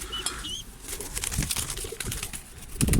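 Pigeons flapping their wings in a sudden flurry as a flock comes down to land, with a few soft coos and chirps at the start and busy wingbeats throughout.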